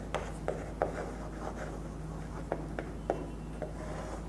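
Pen or pencil strokes writing notes on paper, close and quiet, with short scratchy strokes in an irregular rhythm over a low steady background hum.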